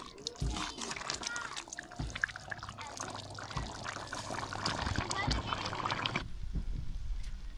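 Water pours steadily into a pot of potatoes and spinach amid kitchen clatter, with a voice talking over it until the flow stops near the end.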